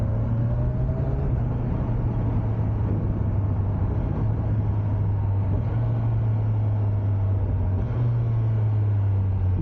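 Kawasaki Ninja 1100SX motorcycle with a quick shifter, its engine droning steadily at a near-constant pitch under loud wind rush while riding, with brief dips around upshifts.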